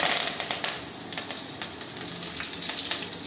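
A bunch of curry leaves hits hot oil already holding cardamom and a little fenugreek for chicken gravy, giving a loud, close, steady crackling sizzle with dense popping spits throughout and no voices.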